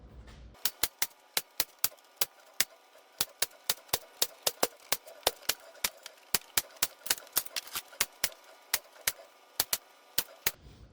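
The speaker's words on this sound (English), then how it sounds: "I'll staple this off." A staple gun fires repeatedly into a vintage trailer door panel, sharp loud snapping clicks in quick irregular succession, dozens of shots close to the microphone with little else between them.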